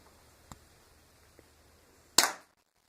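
A BB gun fires once at a can target outdoors, a single sharp crack with a short fading tail, preceded by two faint small taps in otherwise quiet surroundings.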